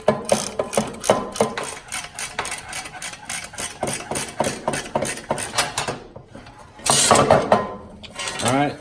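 Ratcheting wrench clicks in quick rapid bursts while a single 10mm bolt is backed out of the flywheel cover on a Fiat 500 Abarth during an oil pan swap, close and mechanical with short pauses between runs.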